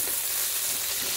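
Potatoes and bacon fry in a Cookeo multicooker while being stirred, a dense, steady, close sizzle filling the brief moment with no voices.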